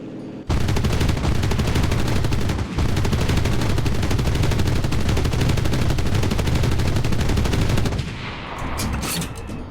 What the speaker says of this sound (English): Alright, we hit the tank with the bomb.